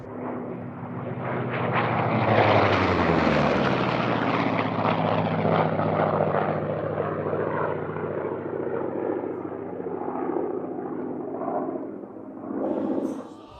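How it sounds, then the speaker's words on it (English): A World War II-era F4U Corsair propeller fighter drones steadily overhead, its broad engine roar swelling early, then holding a long sustained pass before easing off near the end, with no voices. "The last plane we're going to talk about today is the F-4U Corsair."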